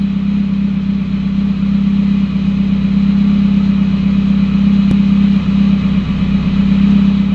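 A Nissan S13 240SX with a brake booster vacuum leak idles steadily up close, its low engine hum loud and constant with a slight rise and dip and no voices.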